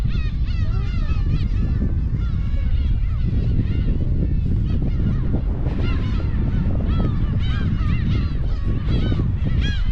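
Dense colony of black-tailed gulls on Kabushima island, Hachinohe, with many overlapping mewing and squawking calls over a constant roar of wind, loud and unbroken.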